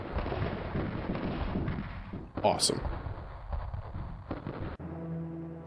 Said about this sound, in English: if you do a Grand Prix, you get a nice little boop, fireworks